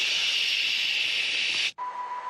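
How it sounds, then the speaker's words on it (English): A dead cell gives off a steady white-noise hiss, broad and even. It runs unbroken for almost two seconds, then cuts out abruptly. A faint thin tone follows in the quieter stretch. "if you look at a dead cell, for instance, you will effectively hear something like a white noise"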